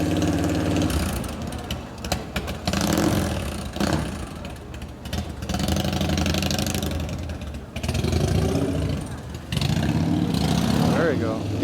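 A custom Harley Evo rigid chopper engine starting roughly and revving, uneven bursts of throttle rising and falling with mechanical clatter, close by while people talk over it.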